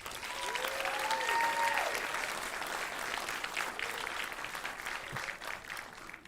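Applause from an audience at a Design Institute of San Diego commencement ceremony, with steady clapping that swells early and then holds for several seconds before easing off, with whistles rising above the clapping near the start.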